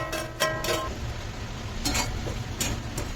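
Crushed papad being stirred with salt and chili flakes for papad chutney, a few soft scraping, clinking strokes in a bowl, close and fairly quiet.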